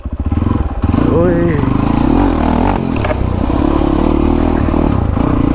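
A motorcycle on a solo ride through jammed traffic, its engine running loud and close with clattering, scraping rattles and brief revs, while someone talks over it.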